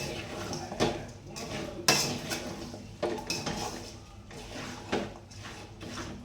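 Chicken pickle mixed with lemon juice in a metal pot, with a spoon scraping and clanking against the sides in irregular strokes, several sharper knocks standing out, close and fairly quiet.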